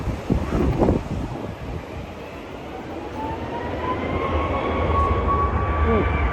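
A Ryanair jet taking off at Tirana Airport, heard from a hotel rooftop overlooking the runway. The engine roar builds steadily and grows louder, with a rising whine, light wind buffeting and brief talk near the start.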